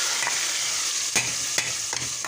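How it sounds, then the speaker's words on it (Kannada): Spices for sambar tempering in hot oil, a bright continuous sizzle close up with a few soft stirring knocks, no voices. "ನೋಡಿ, ಈ ಥರ ಸೌಂಡ್ ಬರಬೇಕು ನಮ್ಮ ಒಗ್ಗರಣೆ."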